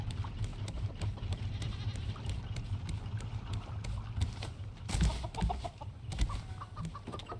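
Chickens clucking in the survival video game Raft, soft scattered clucks over a low steady background hum, with a few louder bursts near the end and goat-like bleats mixed in.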